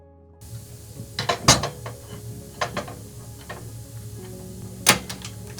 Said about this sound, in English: A draw plate machine is then used to pull the wire through and round it off.